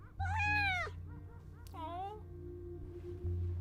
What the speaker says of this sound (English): some of the cat capture was one of Hanatel's actual cats